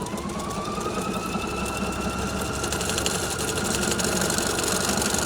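A Pfaff Icon sewing machine runs roughly and unevenly at an embroidery demonstration, stitching over stabilizer with a steady close mechanical whir and a faint rising whine, continuous throughout without talk.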